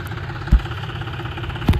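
A tractor engine idles nearby with a steady low throb, broken by two brief heavier knocks, and no one speaks.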